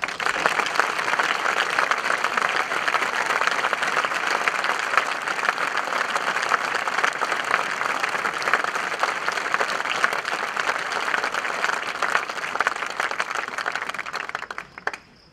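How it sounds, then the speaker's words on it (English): A large crowd at the Pentucket High School class of 2014 commencement applauds scholarship recipients with sustained, loud clapping that stays even for about fifteen seconds before cutting off abruptly. "I'd like all the scholarship recipients to stand for a round of applause."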